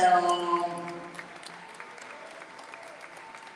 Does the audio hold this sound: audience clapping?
yes